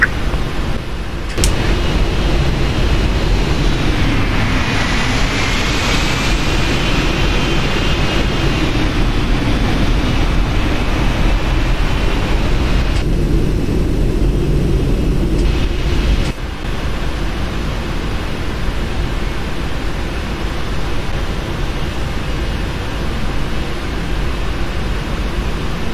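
Engines of a Lufthansa Boeing 747-8 idle at the holding point in Prepar3D, a loud steady jet roar and whine with a rising tonal swell partway through, continuous throughout.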